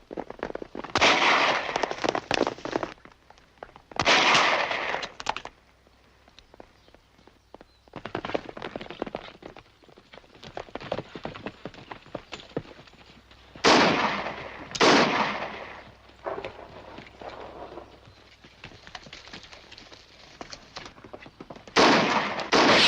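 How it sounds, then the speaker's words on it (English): Rifle shots ring out in bursts through a 1956 western gunfight scene, several loud sharp cracks spaced across the stretch with echoing tails and quieter scattered shots between them. "Rifle fire."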